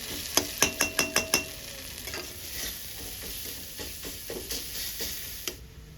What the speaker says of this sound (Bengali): এই দেখা যাচ্ছে ম্যাগির মশলাটা কষছি